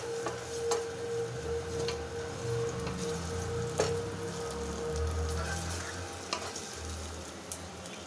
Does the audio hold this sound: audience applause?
no